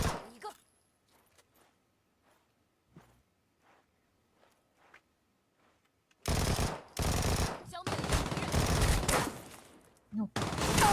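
Video game gunfire: after a quiet stretch of faint taps, loud rapid automatic bursts erupt and continue in dense volleys close up, with a short pause near the end.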